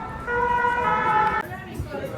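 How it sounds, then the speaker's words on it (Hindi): Ambulance siren on a Paris street, a loud steady wailing tone that holds and then cuts off, with street noise and traffic rumble continuing underneath. "वो एम्बुलेंस आ गई"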